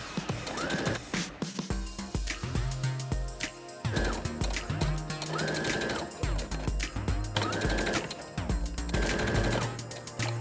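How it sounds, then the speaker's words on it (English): A sewing machine stitches along both sides of a fabric seam on a cloth mask, its rapid mechanical whir running in repeated bursts with short pauses between runs, close and loud. "with the right side facing up, sew along both sides of the seam"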